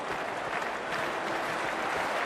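A stadium crowd at a cricket match in The Hundred applauds and cheers in a steady, dense wash of clapping that holds for the whole stretch without letup.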